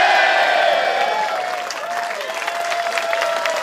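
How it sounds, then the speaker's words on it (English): A wrestling crowd at the Vasto Club in Perth cheers and applauds steadily, a loud, dense wash of clapping and shouting that fills the whole stretch with no pause. "The crowd is absolutely loving it here at the Vasto Club."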